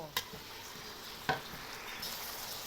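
Clams being stir-fried in a pan, with a steady background sizzle and two sharp scraping stir strokes, close and with no talking.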